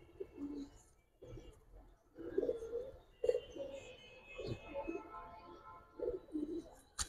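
Giribaz pigeons, including a stone-eyed bird with kajal-striped markings, give low, soft, repeated coos in short bursts, close by but quiet, with faint background noise between calls.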